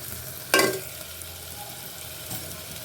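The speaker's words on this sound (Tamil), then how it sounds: "நம்ம வதக்கி வச்சுருக்க இறாவை அப்படியே சேர்த்துடலாம்" Sautéed prawns tipped into hot oil in a kadai for prawn biryani, one sharp loud sizzling burst that fades to a faint hiss, then a small clunk near the end, no voices.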